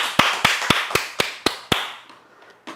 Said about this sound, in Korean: 박수 치기 바랍니다